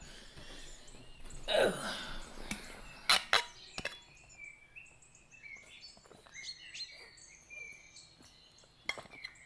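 Bird chirps and tweets play from a computer at a low level, coming as scattered short calls with a few sharper bursts among quiet room sound.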